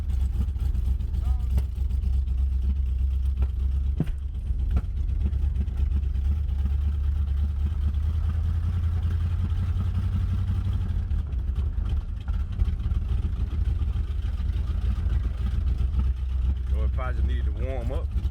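A 3rd gen Camaro engine running with a steady deep low rumble throughout, up close, with a person talking over it.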